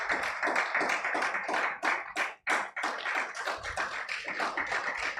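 A crowd applauds steadily, dense clapping from many hands with a brief dip in the middle before picking back up.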